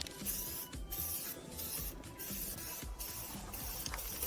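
Jungmu Chemical zinc coating spray hisses from an aerosol can onto a car muffler in a series of short bursts with brief gaps between them, close up and fairly quiet, with no talking.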